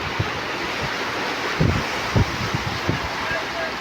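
Floodwater washing across a Dubai road after heavy rain, with a rough rushing wash and wind buffeting the microphone, and several low surging thumps as the water moves.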